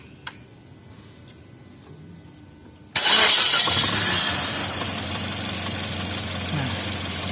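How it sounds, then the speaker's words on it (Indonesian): A Suzuki Ertiga car engine cranks and catches after a quiet start, then settles into a loud, steady idle close by with no talking. "Kita akan hidupkan mesinnya."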